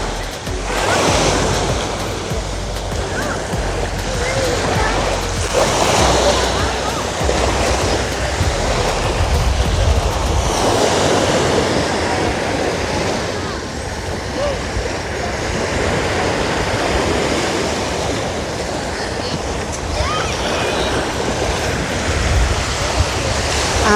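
Surf washing onto the sand at Venice Beach, Florida, a steady close roar of breaking waves with wind buffeting the microphone throughout, and no talk over it.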